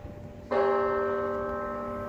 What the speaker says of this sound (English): And there is the aforementioned chime.